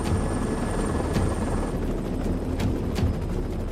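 A logging helicopter drones steadily with a dense rotor and engine roar, loud and continuous throughout.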